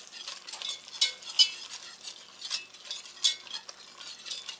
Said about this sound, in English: So I got my whisk, and we're going to start whisking it so that it can form a thicker puree